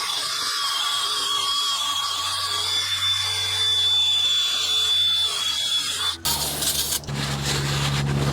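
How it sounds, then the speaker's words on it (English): Continuous abrasive scrubbing of a drill-mounted wire wheel cleaning a Honda Pilot's front brake hub, steady and close, then shifting to a rougher grinding near the end. "I'm gonna clean the surface here of this hub with the little wire wheel on a drill"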